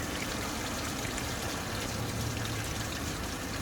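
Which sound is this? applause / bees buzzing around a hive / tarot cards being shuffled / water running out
water running out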